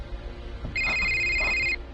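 An electronic telephone ringtone plays steadily for about a second at moderate volume over a quiet background, set in a horror story on a highway.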